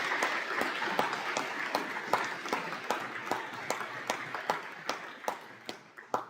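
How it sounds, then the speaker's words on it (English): Applause at a high school awards evening thins into scattered clapping, individual claps spaced out and fading as the crowd winds down in a quiet hall. "Round of applause, please,"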